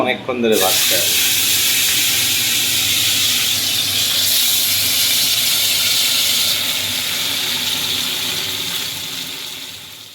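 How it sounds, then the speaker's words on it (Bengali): Thick pieces of fish hit hot oil in a wok over low to medium heat. A loud, close hissing sizzle bursts in and holds steady, then slowly fades toward the end. "কড়াই গরম হয়ে গেছে এবার লো টু মিডিয়াম আছে একদম মাছটা ভাজবো"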